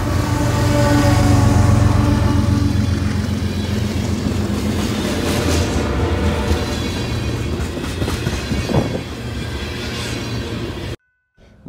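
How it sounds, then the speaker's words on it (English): A BNSF eastbound manifest freight train rolls through town during a blizzard on the former BN Chillicothe Subdivision, a loud, steady rumble of wheels and cars that eases slightly toward the end before cutting out. "another eastbound manifest comes into town on the former BN"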